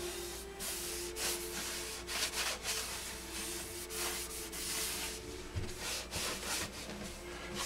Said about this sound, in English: I want to tack rag the whole part